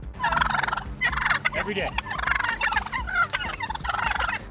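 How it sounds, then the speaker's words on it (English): A flock of wild turkeys gobbling loudly and continuously while chasing a mailman, dense overlapping calls up close, with a brief spoken phrase in between. "In 2015, these wild turkeys went postal."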